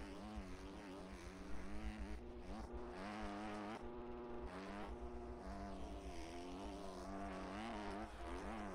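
Dirt bike engine in MX Bikes bouncing off the rev limiter in second gear, a buzzing, wavering whine that stutters and pulses throughout at moderate level.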